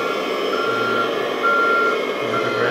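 A toy Kabolite 4x4 K3362 RC dumper truck reverses with a steady, loud electronic beeping and a constant motor hum close by.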